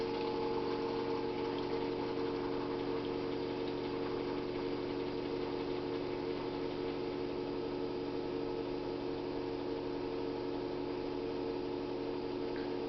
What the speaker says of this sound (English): I'm going to stop the pump.